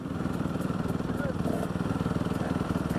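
A 2018 TC 125 dirt bike engine runs at a motocross track, its fast, even two-stroke putter throbbing steadily and loudly nearby.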